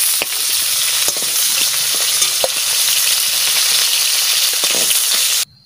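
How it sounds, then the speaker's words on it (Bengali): Steady loud sizzling of taro stolons (kochur loti) frying in hot oil, with occasional scraping and stirring clicks, continuous until it cuts off near the end. "আমি একটু কচুরলতি ভাজা করে নিচ্ছি"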